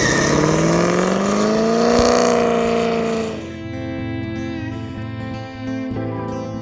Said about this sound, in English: let's get that cold start.